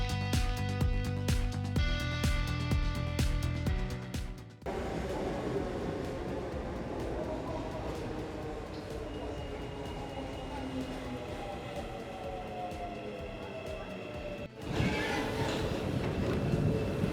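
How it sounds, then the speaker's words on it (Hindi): Busy train station in Istanbul while waiting for a train or tram: a steady roar of rail and crowd noise with rumbling, squealing and mechanical tones, loud and continuous, with brief dips in level. "अब हम पहुँच चुके हैं ट्रेन स्टेशन और अब अपनी ट्रेन या ट्राम का वेट कर रहे हैं"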